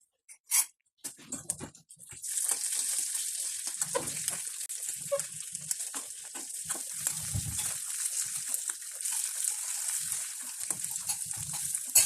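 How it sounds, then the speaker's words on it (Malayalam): Chicken pieces sizzle in a pan after being flipped, a steady bright crackle of frying oil running for several seconds after a few knocks and clatters at the start, with faint background sounds. "ചിക്കൻ്റെ ഒരു വശം ഇപ്പം മൊരിഞ്ഞിട്ടുണ്ട്. നമുക്ക് മറിച്ചിട്ട് കൊടുക്കുക."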